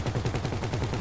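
Rapid automatic gunfire from a GTA 5 heist raid, a dense run of sharp, fast-repeating shots at close range, loud and continuous with no talk over it.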